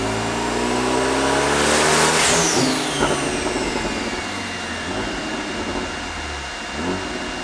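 A big-turbo Abarth 124 revs on a dyno during tuning, giving a loud, close, continuous engine roar whose pitch climbs and then falls away, with no voices over it.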